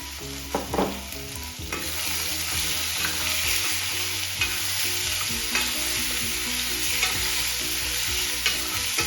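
Chicken liver frying in a pan, with a loud, close, constant sizzle and a spoon scraping and knocking in repeated stirring strokes, no voices.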